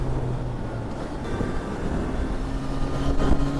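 Triumph Trident 660 motorcycle engine droning steadily while riding through a bend, a low continuous rumble buried under heavy wind buffeting on the microphone.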